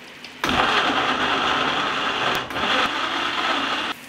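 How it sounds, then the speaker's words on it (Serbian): A blender grinds chopped tomatoes, its motor starting abruptly with a steady, loud whirring hum that holds for several seconds with a brief dip, then cuts off. "I ovako iseckan paradajz stavljam u blender."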